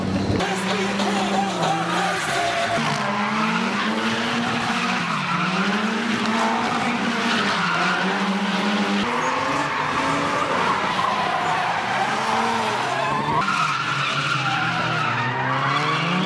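Drift cars at a season-closing drift event in Logoisk skid through the corners with long wailing tire squeals, loud engine howl rising and falling continuously, and some voices under the din.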